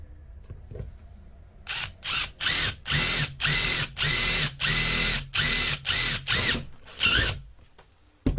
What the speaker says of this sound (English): we'll drill the second hole